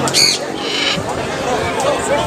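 A white bird squawks in a few harsh bursts amid a noisy crowd at a gathering of animal lovers, with chatter and background hubbub throughout.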